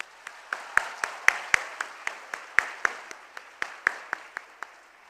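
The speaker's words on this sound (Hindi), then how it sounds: "तो एक बार देश की युवा शक्ति के लिए जोरदार तालियां।" Applause for the country's youth at a finance minister's youth interaction event in Kota, Rajasthan: a few distinct claps in a loose, uneven rhythm, fairly close and sparse rather than a full crowd roar.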